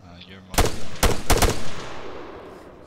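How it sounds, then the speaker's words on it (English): Gunfire in ArmA 3 arrives as a few sharp, loud shot bursts, the first followed by a quick double and short reverberant tails, with a voice in the background. "Enemy fire!"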